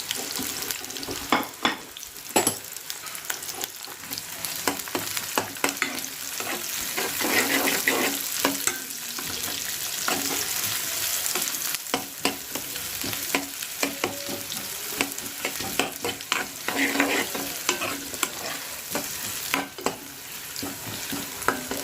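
Onions and green chillies frying in a pan, a steady close sizzle lasting over twenty seconds, broken by frequent scrapes and taps of stirring.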